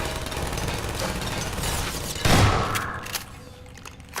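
Automated sentry turrets in Half-Life 2 firing in rapid, rattling bursts, a dense machine-gun clatter with a sharper blast midway before the firing thins out and trails off.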